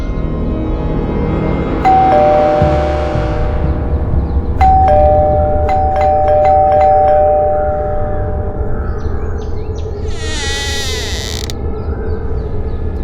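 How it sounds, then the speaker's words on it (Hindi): Two electronic doorbell chime tones ring out over a loud, rumbling background with creaking and mechanical noise, followed later by a brief squealing sound. "घंटी बजाओ।"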